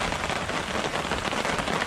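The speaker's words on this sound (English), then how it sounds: "I hope you can hear me over the rain." Early-morning rain in the Adirondacks falls on a camping shelter, a dense, even patter of drops hissing steadily and close by, with no talking.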